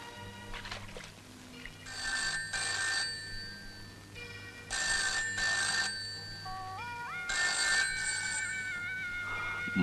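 A telephone rings in a Malayalam action thriller movie scene, sounding in three repeated bursts of bright electronic trilling over a low background hum, fairly close, with no talking.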